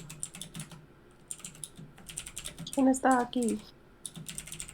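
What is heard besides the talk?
typing on a keyboard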